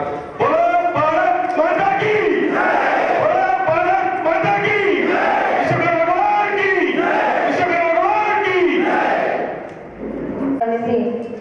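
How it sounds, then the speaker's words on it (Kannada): At a Vishwakarma Jayanti celebration in Challakere, a large crowd chants a loud, rhythmic victory cheer to Mother India, with repeated voiced calls rising and falling for about ten seconds before a brief dip and restart. "ಒಂದ್ಸರಿ ಜೋರಾಗಿ ನಮ್ಮ ಭಾರತ ಮಾತೆಗೆ ಜೈಕಾರ ಹೋಗೋಣ"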